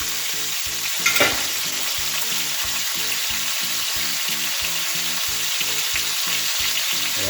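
Pork loin sears in a hot pan, a loud continuous sizzle over a regular pulsing low thud, with a brief sharper burst near the start and no voices.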